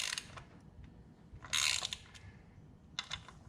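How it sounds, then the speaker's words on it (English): A torque wrench clicks while bolts are tightened on a Harley Davidson Tri Glide during a ventilator kit install, three short bursts of ratcheting, faint and close, with quiet gaps between. "So we'll go ahead and torque these down."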